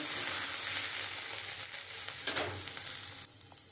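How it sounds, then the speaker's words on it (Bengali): Chopped ginger frying lightly in hot oil with dried chilli and bay leaf, a steady close sizzle with brief louder crackles, no voices. "আদাটা একটু হালকা ভেজে নেব"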